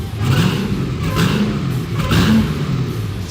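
A 1,000-horsepower all-aluminum engine in a 1958 Plymouth Fury revving loudly up close, with repeated throaty surges and a deep rumbling idle in between.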